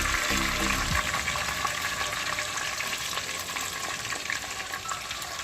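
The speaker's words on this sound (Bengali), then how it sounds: "পেঁয়াজটাকে আমি হালকা ব্রাউন কালার করে ভেজে নেব" Chopped onions frying in mustard oil with bay leaf and dried chilli in a clay pot, a steady loud hiss and sizzle with a brief clatter of stirring near the start, no voices.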